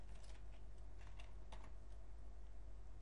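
Fingers tap out an SQL query on a computer keyboard in a steady run of quiet clicks over a low background hum, with no one speaking.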